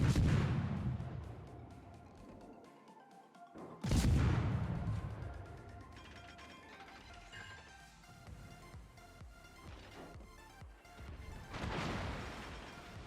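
Enemy warship guns firing in World of Warships, seen from a Russian Okhotnik destroyer: two loud booming salvos about four seconds apart, each one trailing off into rumbling debris and clatter, followed by a softer burst near the end.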